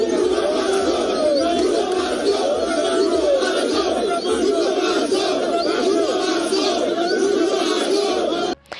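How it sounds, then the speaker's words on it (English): Mourners in a dense crowd at a funeral gathering for a Kenyan political leader shout political slogans in unison, loud and close, with overlapping voices and chatter running without pause throughout. "From the crowd came sudden shouts"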